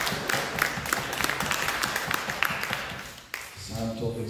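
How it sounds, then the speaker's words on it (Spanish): Church congregation applauding during a worship service, a steady mass of clapping for several seconds that fades out, followed by a voice beginning to speak. "Denle un aplauso al Señor,"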